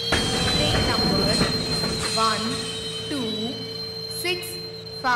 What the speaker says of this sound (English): Passenger Express is arriving at platform number 3